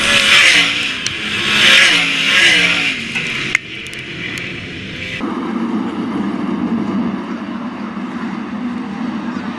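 All Star sprint cars roar around Attica Raceway Park during a heat race, a loud continuous engine drone that swells and fades as the cars pass, then settles into a steadier rumble.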